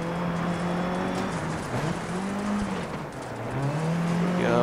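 A rally car in Dirt 3 slides around a hairpin during the Tsavo Classic Shield Rally, its engine droning loudly while the tires scrub and skid on the loose surface. The engine note dips, then climbs again as it accelerates out.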